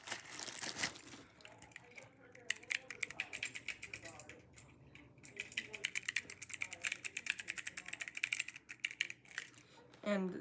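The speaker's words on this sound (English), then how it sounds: "It's the keyboard." Clicky keys on a small keyboard fidget toy bought from AliExpress, pressed in quick irregular bursts of sharp clacks, close and moderately loud, with a brief rustle near the start.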